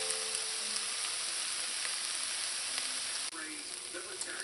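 Ground meat and onions browning in a pan for lasagna meat sauce, a steady close sizzle and crackle of frying with a brief clink partway through.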